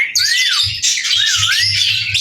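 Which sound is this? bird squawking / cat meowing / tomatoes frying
bird squawking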